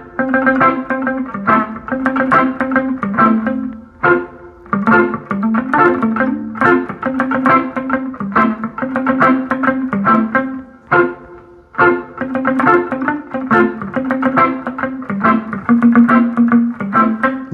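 Electric guitar played palm-muted through effects such as distortion and chorus, strumming a reggae rhythm in a steady, continuous loud pattern with brief pauses, no voices.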